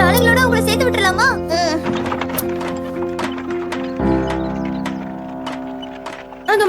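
The wooden horse in a Doraemon cartoon gives hollow clip-clop hoof knocks mixed with cartoon music and animated character voices talking over them.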